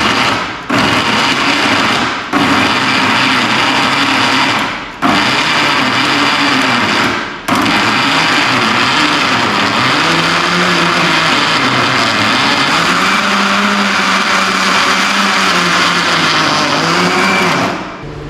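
A kitchen mixer grinder whirs loudly as it grinds bread into crumbs for chicken nugget coating, starting and stopping in three short pulses before running steadily, its motor pitch wavering as the load shifts.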